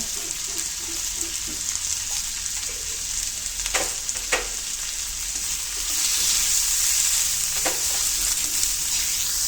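Onions and aromatics sauté with salt and turmeric in a pan for a chilli egg gravy. A steady broadband sizzle runs throughout, broken by a few sharp spatula scrapes, and it grows slightly louder toward the end.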